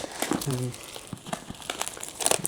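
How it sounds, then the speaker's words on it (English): Cellophane wrapping crinkles and crackles as it is peeled off a large DJI Mini 5 Pro drone box, with steady close rustling throughout and a brief voice near the start. "So let's take the cellophane off."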